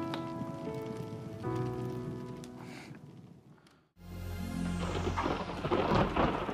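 Rain patters steadily, then after a brief hush a heavier downpour with rumbling thunder swells in and grows louder.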